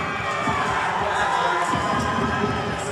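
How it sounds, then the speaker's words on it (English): Supporters at a boxing match cheer and shout as a dense, steady crowd roar that fills the hall, with scattered yells and clapping mixed in. "Supporters, definitely cheering."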